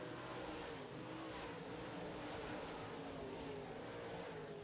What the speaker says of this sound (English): the Mark Brandt Trucking 29K of Ryan Karalik really working the high side very well here.